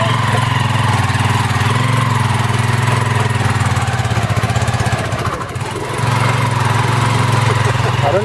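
An off-road vehicle engine revving hard while stuck in mud near Ananthagiri Hills, a loud close continuous drone that dips briefly then picks back up.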